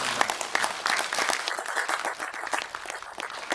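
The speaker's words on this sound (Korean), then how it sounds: "여러분 한 번 더 박관용 의장님께 박수를 부탁드리겠습니다" A forum audience in Korea applauds steadily for a few seconds, dense clapping from a seated crowd at moderate distance with no voices over it.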